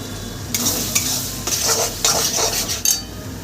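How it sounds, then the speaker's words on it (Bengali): Spice mix for jackfruit biryani being stir-fried in a pan, a steady sizzle broken by brisk metal spatula scrapes and clinks against the pan, close and fairly loud, no voices. "সমস্ত মশলা দিয়ে আমি সুন্দর করে কষিয়ে নেব"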